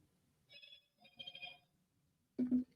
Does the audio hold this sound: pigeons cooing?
no